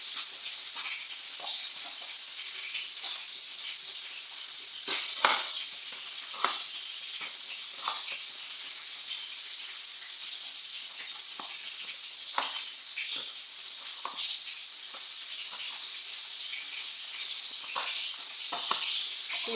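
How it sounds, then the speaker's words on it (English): Continuous bright sizzling of vegetables frying in a hot pan, with occasional pops and scraping stirs, steady and close throughout. "So once you finish frying your chicken, you start off by frying your vegetables as well."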